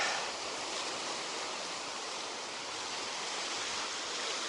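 Steady, broad roar of Atlantic Ocean surf washing onto the shore, continuous and fairly loud with no voices.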